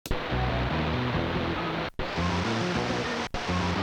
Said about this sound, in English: So a lot of static on this guy now.